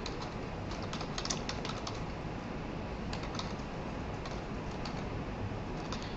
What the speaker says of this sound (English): I'm going to type the code that's in the book